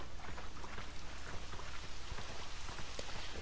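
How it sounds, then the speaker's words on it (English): Rain falling on an island in the King Kong video game on Xbox, a dense, steady hiss of downpour with scattered droplet patter, loud and continuous without pause. "it rains a lot on this island"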